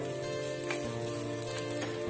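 Coriander powder sizzles in a hot pan for chicken donut masala, a steady close frying hiss with faint stirring scrapes throughout.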